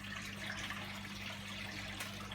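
An AEG Turbo Lavamat washing machine with a blown board pumps out its full drum, a steady low motor hum with gurgling, rushing water running evenly throughout.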